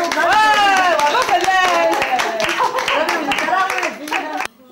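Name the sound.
audience clapping at a fashion show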